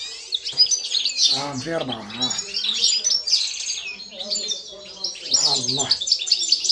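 A Constantine goldfinch sings in a steady run of bright twittering phrases and trills, with someone speaking quietly now and then under the song.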